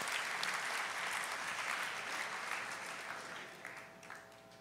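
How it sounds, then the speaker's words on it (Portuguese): A church congregation breaks into applause for Jesus after singing, a broad, steady wash of clapping that slowly thins toward the end. "uma salva de palmas para Jesus pela linda voz de vocês"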